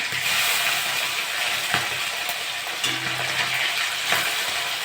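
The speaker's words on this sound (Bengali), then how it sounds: "উল্টে পাল্টে ভালো করে ভেজে নেব।" Small mourola fish sizzle steadily in hot oil in a pan, a dense continuous frying crackle with a few scraping clicks as the pieces are turned over, close and loud with no talk.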